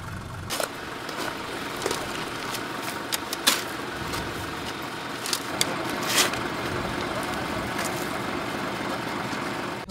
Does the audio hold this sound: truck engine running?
yes